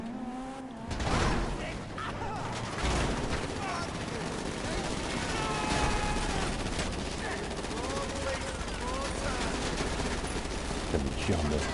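Sustained gunfire in GTA 5, dense rattling automatic shots and bursts mixed with vehicle noise, loud and continuous, with a voice speaking over it.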